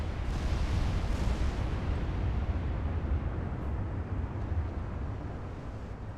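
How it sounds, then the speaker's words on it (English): Ship main cannons fire in the naval warship game Ultimate Admiral Dreadnoughts, producing a heavy, continuous rumbling roar of distant booms that blend into a dense low thunder, slowly fading toward the end. "Main cannons hit something"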